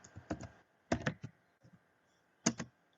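Keyboard typing while writing Spring XML bean configuration, short clustered bursts of clicking keystrokes separated by pauses, close and fairly quiet.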